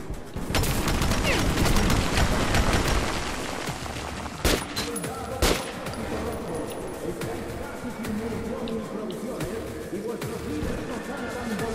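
Rapid bursts of gunfire crackle through the soundscape of the video game Metro 2033 Redux, with a couple of sharp louder shots standing out and someone talking over the shooting in Spanish.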